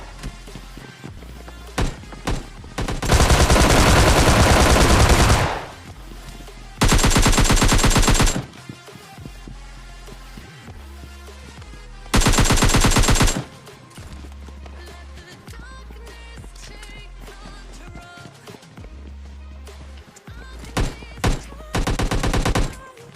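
Repeated bursts of automatic gunfire in a heated close-range fight in PUBG Mobile Lite, several loud sustained volleys and scattered single shots over a steady game soundtrack.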